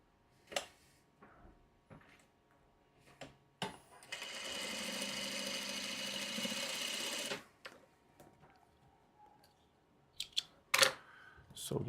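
Sewing machine stitching a quilt block for a Farmer's Wife Cups and Saucers pattern, a steady whirring run of about three seconds framed by clicks and handling noises, with no talking.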